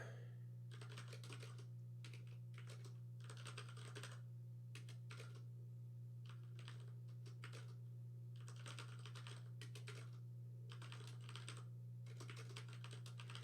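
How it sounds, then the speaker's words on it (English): Quiet, close clatter of fingers typing on a computer keyboard, coming in irregular bursts of rapid keystrokes separated by short pauses, over a faint steady electrical hum. "I guess it only saved me so much typing there."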